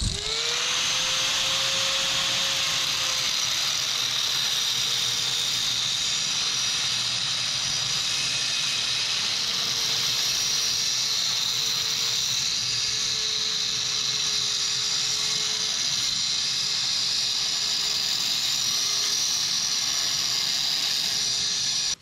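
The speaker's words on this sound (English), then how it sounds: "I've been grinding on it for a few minutes" Power grinder working down a weld on a 1966 Chevy dually drive shaft U-joint, a loud continuous high whine with a steady droning tone, close and uninterrupted throughout.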